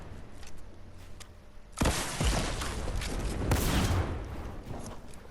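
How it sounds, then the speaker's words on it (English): Rocket launcher firing in Fortnite, heavy blasts and explosive booms bursting loudly after a quieter stretch, with rumbling impacts trailing off. "Picks up my rocket launcher and let's rip."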